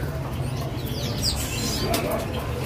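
A bird coos softly in a pet shop kiosk, a faint call over a constant low background hum with a few light chirps.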